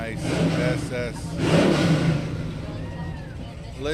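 An SS car idles and revs at a car cruise, its engine swelling into a louder rev mid-way before settling to a throaty rumble, with people talking over it.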